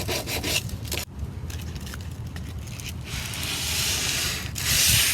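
Steady scratchy rubbing of sandpaper on painted wood furniture, continuous and close, with rhythmic back-and-forth strokes and no voices.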